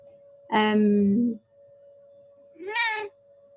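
Two meows, the first long and drawn out, the second shorter and rising, sound alone over a steady background hum.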